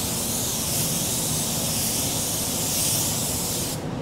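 A paint spray gun set to low pressure and a light fluid flow gives off a steady, close hiss. The hiss stays constant and then cuts off abruptly near the end as the trigger is released.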